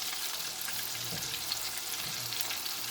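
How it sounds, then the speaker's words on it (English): A Scotch egg frying in hot oil while being stirred, a dense continuous sizzle up close with soft stirring scrapes, no talking. "fry until you have like the golden brown color. Yep. Just keep stirring"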